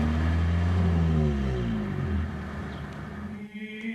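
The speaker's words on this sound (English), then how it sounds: "In a car, the valves open and close, and we get big bursts of sound coming out from the engine." A car engine revs hard, its pitch sweeping up then easing off as the loud rumble fades toward the end, heard alone without talk.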